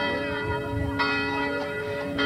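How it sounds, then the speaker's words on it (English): A large town church bell tolls with bright, ringing strokes that bloom and sustain, three strikes spaced about a second apart, heard clearly from a street lined with two-story frame houses. "There goes the church bell."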